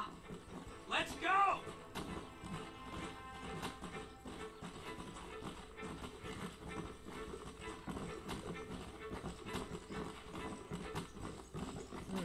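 Horse hooves galloping in the Red Dead Redemption video game, a fast steady clip-clop rhythm running the whole time under game music and ambience, with a brief vocal sound near the start.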